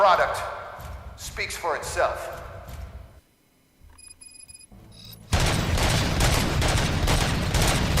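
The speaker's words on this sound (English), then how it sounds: "Gunshots? What's going on?" Gunfire in the Robocop Rogue City video game comes as scattered shots under game dialogue, drops to near silence, then returns as a dense, loud burst of rapid fire.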